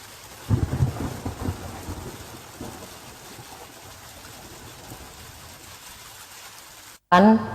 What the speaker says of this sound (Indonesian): Peristiwa itulah yang kita sebut dengan hujan.